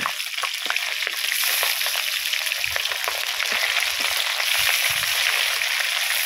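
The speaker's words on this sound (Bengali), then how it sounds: "মাছগুলো উল্টে পাল্টে খুব সুন্দর করে ভেজে নিতে হবে।" Amla fish fry in hot oil in a wok, a dense, loud crackling sizzle running throughout with occasional low bubbling thumps as pieces shift, nearby and with no talking.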